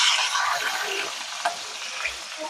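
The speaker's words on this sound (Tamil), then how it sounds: "இப்ப வெந்தயம் கொஞ்சம் பொரியட்டு" Fenugreek seeds and green chillies fry in hot oil with a loud, dense, continuous sizzle and spitting crackle, close and steady throughout, with no voices.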